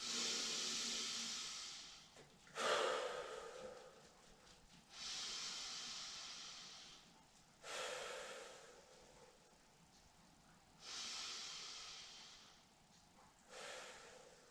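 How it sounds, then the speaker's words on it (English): Three deep breaths taken while seated for Kundalini yoga, each a loud, hissing rush of air in and out, spaced a few seconds apart with quiet gaps between them. "I will start by taking 3 deep breaths."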